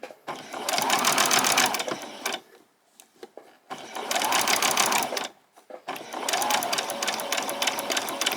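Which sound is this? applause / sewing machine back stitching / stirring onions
sewing machine back stitching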